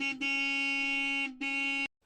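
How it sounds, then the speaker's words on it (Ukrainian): A car horn blares in two long, loud honks, the first longer than the second, steady and close. "сигнали машина"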